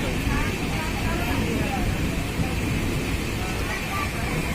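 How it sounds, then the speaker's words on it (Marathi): Heavy monsoon rain falls on the Khandala ghat during a train journey, a dense, loud, continuous wash of noise with no pause or break, and a low rumble beneath it. "जबरदस्त फुल पाऊस आहे."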